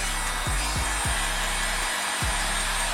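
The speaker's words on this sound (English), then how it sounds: "We got our heat gun here." A heat gun blows a steady, loud rushing whir while loosening tape on a Toyota 86 / Subaru BRZ / Scion FR-S during a fender fin install; the motor tone dips briefly a few times, with no talk.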